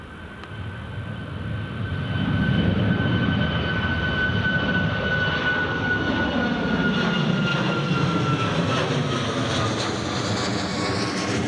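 A TUI passenger jet departing Newcastle Airport for Gran Canaria roars loudly and steadily, its engine noise swelling and holding with a whining tone that slowly shifts as it passes, with no voices.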